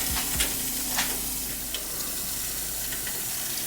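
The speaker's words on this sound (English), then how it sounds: "I'm just gonna let these cook until they turn nice and golden brown" Jamaican fried dumplings sizzle in hot oil in a pan, a steady close crackle with a few sharp pops and spits, and no voices.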